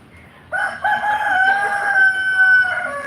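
A rooster crows loudly and close by, one long drawn-out call that rises and holds, with faint clucking from other fowl beneath it.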